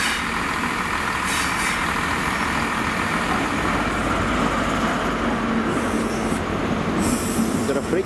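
A freight train rumbles past Cardiff Central station steadily with rolling wheel noise and faint squeals, a continuous heavy mechanical drone without a break.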